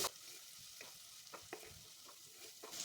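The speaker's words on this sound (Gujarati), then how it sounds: "તો હવે આપણે થોડા મસાલાને સાતળી લઈશું।" Spices sauté in a pan for a bottle gourd and chana dal curry. A quiet, soft sizzle runs under scattered scrapes of stirring, heard alone.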